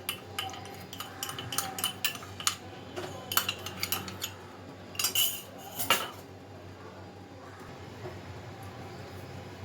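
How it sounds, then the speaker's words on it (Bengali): A whisk or spoon clinks and scrapes against a bowl as one cup of gram flour (besan) batter is mixed for aloo chop, the taps coming in irregular bursts, fairly close, with no talking. "এখন একটা ব্যাটার তৈরি করে নিচ্ছি"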